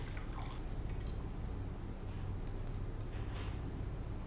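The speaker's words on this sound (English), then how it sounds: "So I will soak these now into lukewarm water." Dumplings for dahi bhalla slip into a bowl of lukewarm water, giving soft liquid sloshes and faint drips over a steady low background hum, with no speech.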